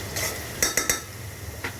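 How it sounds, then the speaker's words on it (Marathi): A spoon taps against a pressure cooker while pulao with peas and coriander is being mixed, giving a quick run of three sharp metallic clinks and then one more clink, close and alone over faint kitchen background. "कुकरला मारायचं नाही सारखं खटखट खटखट"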